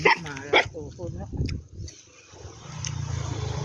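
A dog barks a few times near the start, mixed with people talking, and a low rumble builds toward the end.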